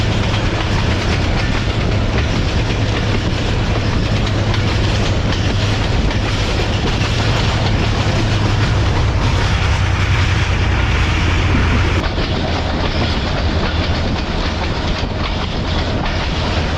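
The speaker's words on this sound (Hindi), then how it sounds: "सक्खर के अमीरों के इलाके से गुजरती हुई ट्रेन" Mohen Jo Daro passenger train running on rails through Sukkur, Sindh, after heavy rain, heard from aboard as a loud, steady rumble with continuous clickety-clack of wheels and a low droning hum throughout.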